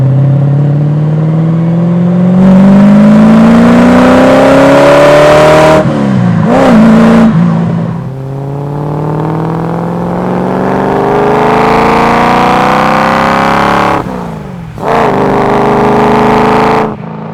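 An Aston Martin V8 Vantage with a 6.3 litre engine revs and accelerates through several gears, its loud rising roar dropping briefly at each shift before climbing again, close and dominant throughout.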